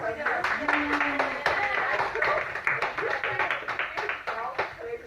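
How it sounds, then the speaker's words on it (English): A class applauds, a fairly close patter of clapping that rises and fades unevenly, with voices talking over it throughout. "Applause for yourself."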